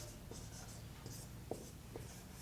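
Faint scratching strokes of writing during a number theory lecture on divisibility, a few soft quick marks and taps over a quiet room hum.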